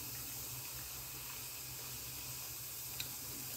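Carbonate stirred into a liquid fizzes in a steady, faint hiss of a bubbling chemical reaction, continuous and even throughout, with a tiny clink near the end and no voices.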